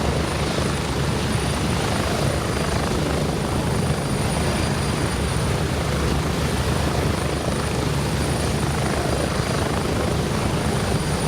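A helicopter in the game Gray Zone Warfare throws out rotor wash: a dense, loud, unbroken rotor and engine roar with a thin high whine on top, steady throughout, with no speech.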